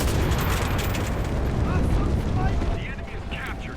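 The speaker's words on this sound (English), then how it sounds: "They're gonna start bombing our boys. That's unfortunate. Not much we can do about that. Look at those bombs." Bombs explode in a war video game, a dense, continuous roar of heavy rumbling blasts and booms that thins out toward the end.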